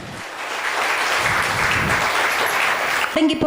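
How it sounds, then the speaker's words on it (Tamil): Loud, dense audience applause fills a hall at a women's festival event, holding steady for about three seconds before cutting off abruptly. "அவங்களுக்கு ஒரு பலத்த கைத்தட்டல் கொடுத்துடலாம்."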